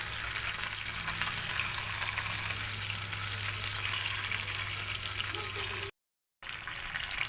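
Chicken sizzles and fries steadily in hot cooking oil, a dense, continuous crackle with a low hum beneath, broken by a brief moment of silence near the end.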